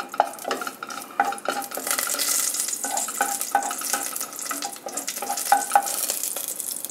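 Star anise and a cardamom pod sputtering in hot oil in a pan while cooking chickpea masala, with a steady close sizzle and bursts of small pops and clinks throughout, no talk.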